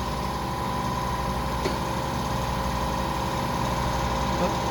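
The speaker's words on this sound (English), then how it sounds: "I'm going to take my push rods and clean them up on the wheel" Push rods from a Chevrolet 283 engine for a 1961 Impala are cleaned on a spinning wire wheel, with a constant humming motor whine and a brief scratchy contact partway through.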